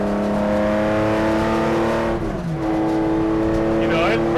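A 1965 Porsche 911 engine holding about 4,000 RPM in fourth gear, a steady, loud harmonic drone from inside the car with a brief dip in pitch midway before settling again.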